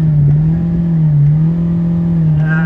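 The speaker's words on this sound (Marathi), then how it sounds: "आप्पा देतोय रेस। आरपीएम दिखा।" A car engine revs steadily at high RPM, a loud, close, droning hum that sustains with slight pitch wavering.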